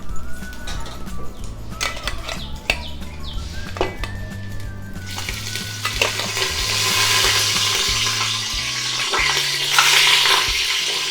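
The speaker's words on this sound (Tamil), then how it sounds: "முதல்ல இந்த சாப்ஸை போட்டு கொஞ்சம் நல்லா வதக்கி எடுத்துக்கணும்" Mutton chops fry in hot oil in a pan, sizzling steadily while a spoon stirs and scrapes against the pan, with the sizzle growing louder and brighter partway through.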